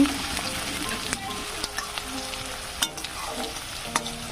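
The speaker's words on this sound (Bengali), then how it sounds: "পেঁয়াজ কুচি দিয়ে দিয়েছি রসুন এদিকে দিয়ে ভালো করে ভেজে নিচ্ছি" Chopped onion and garlic with a couple of bay leaves fry in mustard oil in a pan, giving a steady close sizzle broken by occasional scraping stirs.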